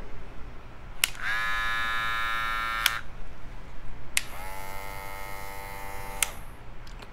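A TPOB Troll hair clipper with a high-torque digital motor running at 6,800 RPM gives two steady, close buzzing runs of about two seconds each, separated by a pause, over a low background hum.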